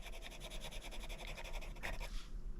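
Rapid, rhythmic scratching of an oil-based colored pencil on paper while drawing a leaf, close and fairly quiet, strokes repeating evenly before trailing off.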